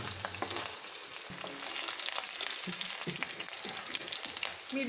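Green chillies fry in oil with garlic for spicy pitla, giving a soft, fairly quiet sizzle with scattered pops and crackles and a few light utensil knocks throughout.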